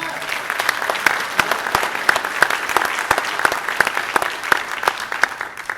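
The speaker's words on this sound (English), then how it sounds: "so I want to give you all a round of applause as well" Audience at an adult-class graduation commencement ceremony claps steadily for several seconds, a dense sustained applause with sharp individual claps standing out near and far and no voices over it.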